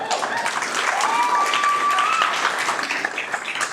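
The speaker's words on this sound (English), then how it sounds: "You might want to hold your applause" A graduation-ceremony crowd applauds a chemistry professor's teaching record with sustained, dense clapping at a steady, fairly loud level throughout, a voice briefly audible beneath it.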